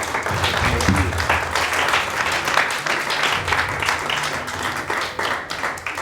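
Audience applause for a band at a live concert, a dense, steady wash of many hands clapping close and loud throughout, with faint crowd murmur underneath.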